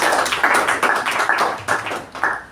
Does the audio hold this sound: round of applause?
yes